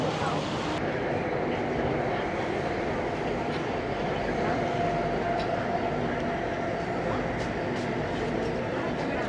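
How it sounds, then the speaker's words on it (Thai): A steady, loud rumble of a Bangkok MRT underground metro train in motion, continuous droning noise with faint talk mixed in, near Silom station. "นี่คือรถไฟฟ้า MRT"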